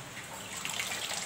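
Cold tap water runs over boiled chow mein noodles for egg chow mein, a steady trickling, splashing stream close by and moderately loud.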